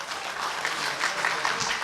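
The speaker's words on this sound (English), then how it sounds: "Can we give them a round of applause, please?" Audience applause at a book launch event, a steady wash of clapping from a crowd filling the room for about two seconds, fairly even in loudness with no talk over it.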